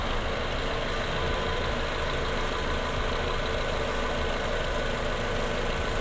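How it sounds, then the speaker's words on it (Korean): A fourth-generation Toyota RAV4 2.5 2WD idles with a steady, even engine hum heard up close in the engine bay, continuous and unchanging, with no talking. "엔진 소리도 일정합니다."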